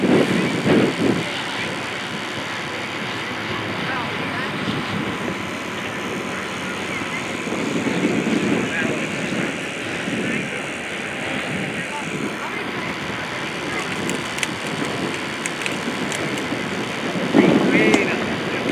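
A Pitts Special aerobatic biplane drones at a distance during an airshow, its engine rising and falling as it passes, with faint background noise throughout.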